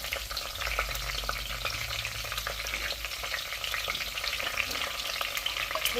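Garlic sizzling and frying in oil in a clay pot for Tamil fish curry, a steady close crackling hiss with occasional stirring scrapes, no talking.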